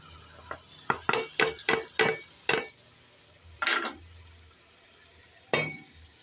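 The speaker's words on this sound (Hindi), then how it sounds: "अब हम इसमें अपनी गुआर फली, आलू और गुआर फली को भून लेंगे।" Potatoes and cluster beans being fried in coarse masala in a pan, heard as a quick run of close stirring scrapes and clanks, then two more isolated scrapes, with a soft sizzle underneath.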